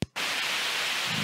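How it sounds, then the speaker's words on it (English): White noise from a Noise Toaster synthesizer's noise generator switched on after a brief click and gap, then a steady, loud, even hiss holding without change. "we'll flip the noise white noise generator on."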